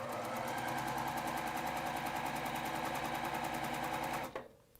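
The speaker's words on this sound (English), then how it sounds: "we can send this through the sewing machine." Sewing machine running steadily while stitching pieces of a beginner's quilt, a fast even needle rhythm up close that stops abruptly near the end.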